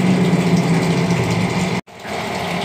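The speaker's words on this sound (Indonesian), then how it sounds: "Perlengkapan lain yang sangat diperlukan diantaranya juga ini mesin aerator ya." An aerator pump for a Red Bee shrimp aquarium hums steadily up close with a droning mechanical buzz, cutting out abruptly for a split second before resuming slightly quieter.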